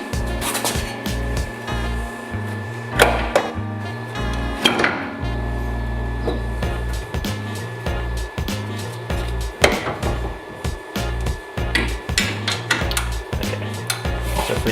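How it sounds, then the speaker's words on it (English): Metallic clanks, taps and ratcheting scrapes of tools working the lower nut and bolt on a Mazda MX-5 suspension during a coilover fit, irregular and close, with a constant low hum underneath. "now I'll undo the lower nut and bolt holding the shotgun"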